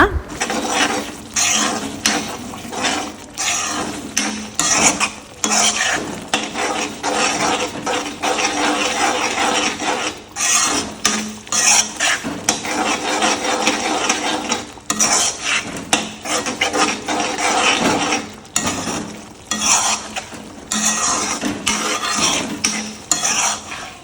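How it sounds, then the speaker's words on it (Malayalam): A spoon scrapes and clatters steadily against a pan of fried tuna pickle, continuous rhythmic stirring with metallic scraping throughout. "വറുത്ത് വെച്ചിരിക്കുന്ന ചൂര ഇട്ട് കൊടുക്കുക. അപ്പം നമ്മൾ നന്നായിട്ട് യോജിപ്പിച്ച് എടുക്കുക."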